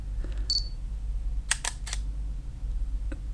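A Panasonic Lumix DMC-GF3 camera powering on with an XC card inserted gives a short cluster of three or four crisp mechanical clicks and whirs up close, with a faint electronic tone before it and a steady low hum underneath.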